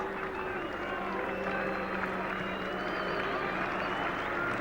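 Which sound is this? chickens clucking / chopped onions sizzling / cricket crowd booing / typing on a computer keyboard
cricket crowd booing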